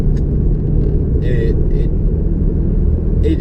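A 2013 Ford Mustang GT with a manual gearbox gives off a steady, deep engine and exhaust rumble that holds at an even level throughout.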